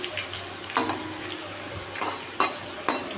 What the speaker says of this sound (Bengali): এখন আবার আলু কেটে আলু ভাজা বসিয়েছি